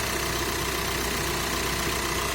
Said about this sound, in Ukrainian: А так працює моторчик